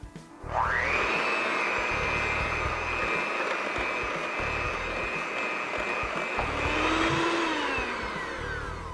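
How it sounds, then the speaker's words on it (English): A steady electric mixer whipping cooked sweet potatoes whirs loudly and continuously, its motor pitch rising at the start and holding level for several seconds before dipping near the end. "use either a standing mixer or any kind of beater blender and just whip it right up"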